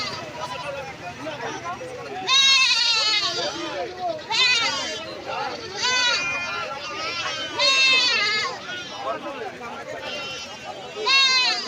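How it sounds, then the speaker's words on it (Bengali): Black Bengal goats bleat repeatedly at a busy goat market, loud nearby calls rising over a constant background of crowd chatter and people talking. "দেখুন এখানে দুটো পিওর ব্ল্যাক বেঙ্গল ছাগল রয়েছে"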